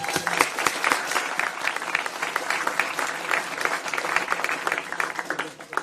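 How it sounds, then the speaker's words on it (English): An audience at a Waitangi Day citizenship ceremony in New Zealand bursts into sustained applause, a dense wash of many hands clapping steadily for several seconds before trailing off. "Thank you. Applause."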